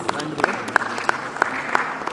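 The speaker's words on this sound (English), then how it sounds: "Can we give a great round of applause," Audience applause for panelists after a discussion on artificial intelligence at an industry event, with crisp, regularly spaced claps standing out above a softer background wash.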